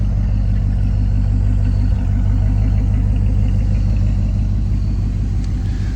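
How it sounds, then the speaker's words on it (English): A 1959 Ford Galaxie Sunliner with a three-speed Cruise-O-Matic automatic burbles steadily from its exhaust, a loud, close low rumble with an even pulsing throb and no talk. "Nice burble from the exhaust."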